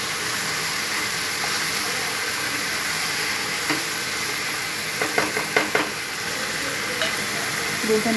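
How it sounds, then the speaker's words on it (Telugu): Masala being stirred into goat head curry in a pan, Telangana style: a steady sizzle and hiss of frying runs throughout, with a few louder scraping strokes of the spoon around the middle and end. "మసాలా బాగా పట్టేంత వరకు కలుపుకున్నాం"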